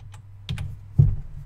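A few quick keystrokes on a computer keyboard while naming a spreadsheet tab, close clicks coming in a short burst and then one firmer tap.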